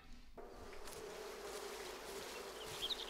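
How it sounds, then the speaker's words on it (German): Wasps buzz faintly and continuously in Ken Follett's The Pillars of the Earth video game, inside a nunnery, a soft droning hum with no voices. "Ah, noch mehr Wespen."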